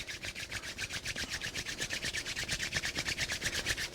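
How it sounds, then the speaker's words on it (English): Two palms rub briskly together in a steady back-and-forth rhythm, about two strokes per second, each pass a close, dry swish with no talking, as a yoga practice draws to an end. "bringing the hands together, rubbing the hands, creating fire and energy"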